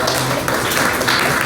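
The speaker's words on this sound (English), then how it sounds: "Let's give a round of applause to all of our speakers." After a school debate, the audience claps for all the speakers: a short burst of fairly loud, close applause with scattered sharp hand claps and no talking over it.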